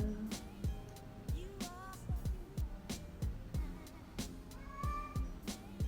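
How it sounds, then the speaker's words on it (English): A cat meows repeatedly at a moderate distance, several short cries spaced a second or so apart. "Can you guys hear my cat?"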